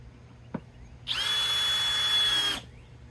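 A power drill drives a screw into a wooden planter box board in one loud, steady whine of about a second and a half, preceded by a faint knock.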